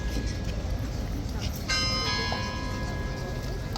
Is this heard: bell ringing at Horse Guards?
yes